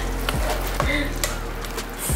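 Garlic frying in a pan while being stirred, a steady sizzle running throughout, broken by a few short spoon scrapes against the pan, close and moderately loud.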